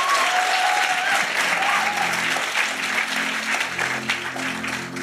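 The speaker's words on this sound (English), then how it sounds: "let's give the Lord a clap offering." A church congregation applauds during a deliverance service, a loud, full burst of clapping that fades slightly over five seconds, with some faint voices and a sustained tone underneath.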